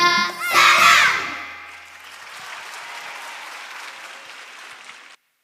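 Applause from an audience for a children's choir at a live event in Ollolai, rising loudly as the final sung notes fade, then continuing as steady clapping that tapers off before cutting out.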